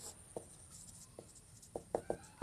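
A pen writes out a maths solution on paper in a quiet room, making faint, scattered scratchy strokes that grow a little busier toward the end.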